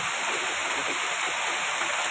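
Heavy typhoon rain pours steadily outside a hut in flooded Manila, a dense, continuous hiss like rushing water, loud and close with no breaks.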